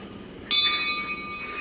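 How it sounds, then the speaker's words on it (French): A handheld anti-bear bell rung on a mountain trail in Kamikochi, Japan, gives one loud, bright metallic strike that rings on with a long, shimmering sustain, followed by a fainter second jingle near the end. "Les cloches anti-ours. Et normalement, genre, tu sonnes."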